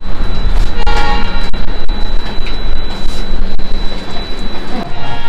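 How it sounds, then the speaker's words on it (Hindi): The Gatimaan Express train horn sounds as it departs, over loud, continuous rumbling and clatter of a busy Indian railway, the blast blending into the heavy noise. "तो चलिए गाड़ी का यहाँ पे हमारा डिपार्चर हो चुका है"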